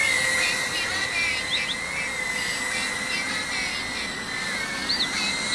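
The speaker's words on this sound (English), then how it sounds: "it's a musical Christmas flying drone" A small musical Christmas toy drone flies with a steady high whirring buzz from its rotors, and a thin electronic tune plays over it, moderately close and without voices.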